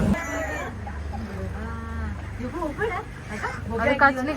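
Fighting chickens cluck and squawk in the background while people talk nearby, the birds' calls rising through the conversation.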